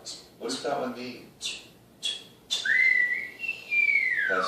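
A whistle sounding in several short, shrill chirps, then one longer rising and falling tone near the end, close and clear against a quiet background.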